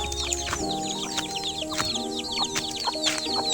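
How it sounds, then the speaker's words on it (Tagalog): Several chickens cluck and chirp close by in quick, overlapping bursts, with a low steady hum underneath. "Dito na yung mga manok ko."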